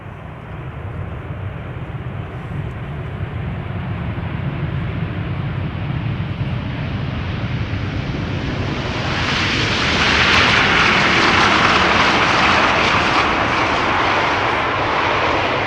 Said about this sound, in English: The second 747 landed on the center runway.